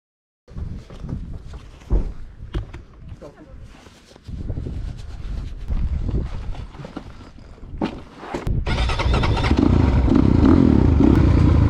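A 2022 300 BHR motorcycle ridden off-road on a motocross track: scattered clatter and handling noise with talk at first, then a loud, sustained, rough engine roar dominating the final few seconds.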